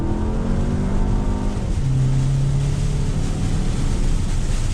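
A 2019 VW Arteon sedan's engine drones steadily from inside the cabin while driving on throttle at around 30, a loud constant hum with road noise and a slowly shifting engine tone.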